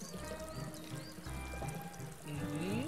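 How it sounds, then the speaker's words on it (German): A waterfall in The Whispered World adventure game gives a steady, pouring rush of water, moderately quiet and continuous, with a brief spoken murmur over it. "Ach, das ist der Wasserfall."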